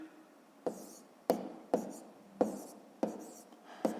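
Numbers handwritten in a fifth-grade math exercise: a pen scratches across paper in six short, evenly spaced strokes, close and clear, with no talking.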